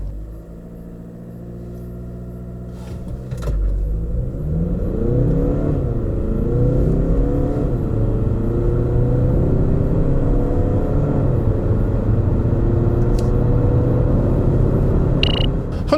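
A 2018 Hyundai Tucson 1.6 diesel AWD accelerates hard, its engine droning loud and steady with rising, stepping harmonics as it climbs through the gears, with no talk over it.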